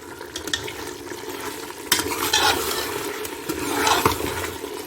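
Spices are stirred into beef paya nihari in a pot, with continuous close scraping and wet sloshing along with occasional clanks of utensil against metal, and no voices.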